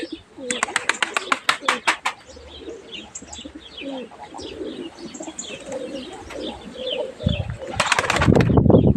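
Pigeons coo and chirp close by in a loft, with bursts of wing flapping at the start and again near the end.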